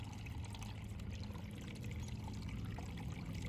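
A constant rushing of water pouring heavily over a pond spillway, a dense, steady roar with no pauses, heard from close by.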